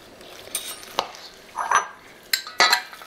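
A spoon scrapes and taps against a dish while packing terrine mixture down, giving a few short, sharp clinks and a soft squelching scrape, close and isolated, with quiet gaps between.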